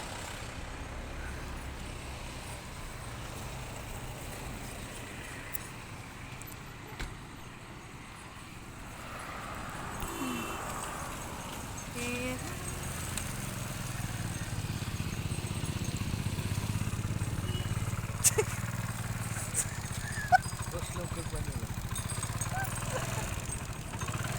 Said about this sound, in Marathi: पाहू शकता तुम्ही आता हायवेला कशा गाड्या चाललेल्या आहेत